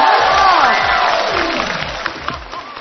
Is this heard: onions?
no